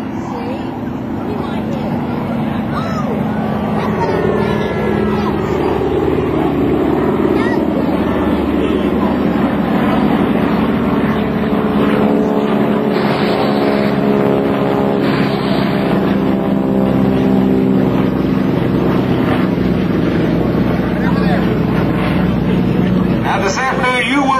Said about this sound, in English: I'm saying formation pass. Our Yak 52s, the CJ-6 and the T-6 Texan aircraft.